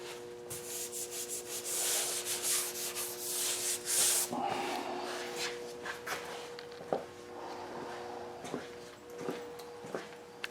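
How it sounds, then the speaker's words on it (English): Hand sanding of body filler on a 2007 Chevrolet Tahoe, with repeated scratchy rubbing strokes up close, irregular in rhythm, sometimes broken by brief knocks and pauses. "I got these out so I can sand that down"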